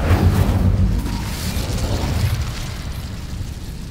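A fire spell bursts in the video game Hogwarts Legacy with a loud whooshing blast, then a rumbling roar that slowly fades across several seconds.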